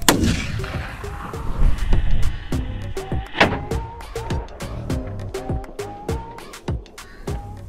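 Rapid sharp firecracker bangs and pops fire off one after another inside a moped exhaust, each with a ringing, descending whistle-like tail that echoes across open space.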